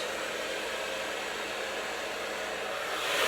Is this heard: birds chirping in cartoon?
no